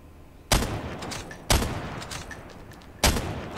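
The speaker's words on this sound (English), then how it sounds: "Shoot some targets." Three loud single gunshots ring out at steady intervals at targets on a Call of Duty: Mobile practice range, each one followed by a decaying echo.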